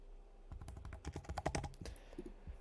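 Rapid, uneven keystrokes on a computer keyboard while entering a site name in a web page editor, a short burst of clicks with no talking.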